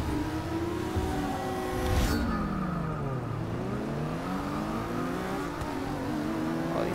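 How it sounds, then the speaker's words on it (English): Race cars in Forza Motorsport 6 rev and accelerate loudly near the start of a race, engine pitch rising and falling steadily with a brief surge of whine around the second mark. "Oh, these cars sound amazing."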